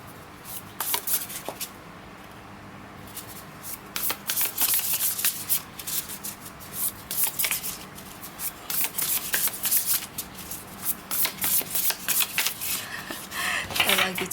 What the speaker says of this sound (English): I like you to just listen to this shuffle